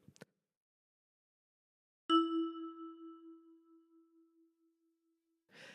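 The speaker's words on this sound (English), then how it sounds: "And with your right thumb, pluck number 3." One ten-key kalimba tine plucked with the right thumb sounds alone after a pause, a clean ringing note decaying gradually, with faint brief noises at the very start and end.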